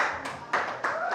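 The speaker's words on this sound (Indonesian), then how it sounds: "Tepuk tangan dulu." A classroom applauds a student group, a small scattering of hands clapping close by in uneven bursts with some voices underneath.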